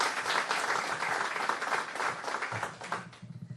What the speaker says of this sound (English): So how about another round of applause for Samantha for doing a great job.